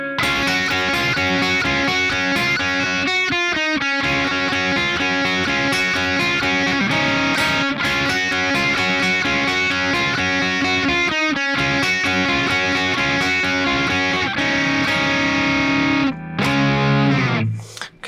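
Distorted electric guitar slowly picking an intro riff, a continuous loud lead line with brief gaps between phrases and a final sliding note at the end.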